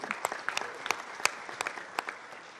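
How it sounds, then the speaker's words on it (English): Light, scattered applause from a conference audience in a large meeting chamber, a modest number of distinct individual claps with audible gaps, fairly quiet and without speech over it. "let's give a round of applause for him."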